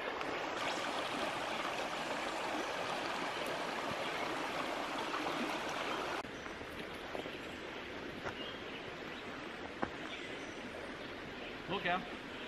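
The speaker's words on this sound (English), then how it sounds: "we're walking down to the river" Rio Cañas river flowing in Las Marias, Puerto Rico, a steady broadband rush of water heard while walking down to it, softer in the second half, with faint voices and a few brief knocks.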